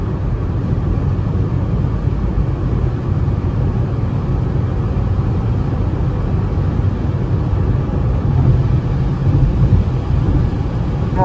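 A 2023 Citroën C3 Live Pack 1.0 driving in heavy rain, heard as a loud, steady blend of road roar and rain noise from inside the car, with no voices.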